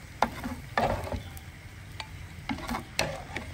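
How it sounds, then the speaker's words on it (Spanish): Half an onion and two garlic cloves fry in a pan, giving a steady sizzle broken by several sharp scraping and stirring knocks at close range, with no talking. "vamos a sofreír media cebolla y dos dientes de ajo"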